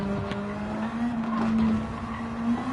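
Race car in Gran Turismo 7 braking into a corner, engine note holding a steady pitch that shifts slightly as it slows, with a faint tire squeal over the close, loud motor drone.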